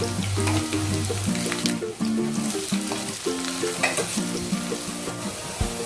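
Garlic and asafoetida frying in hot oil in a pan, giving a steady close sizzle with light stirring scrapes throughout, and no talking.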